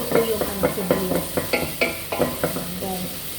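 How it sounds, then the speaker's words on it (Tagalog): Onions sizzling and crackling in hot oil, with a steady fry punctuated by quick stirring scrapes, close and fairly quiet. "Yung talagang marinig mo yung tunog ng mantika na"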